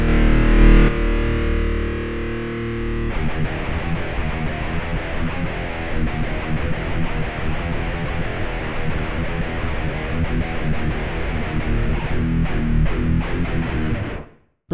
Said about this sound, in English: Like it's a strange amp sim in terms of sound quality.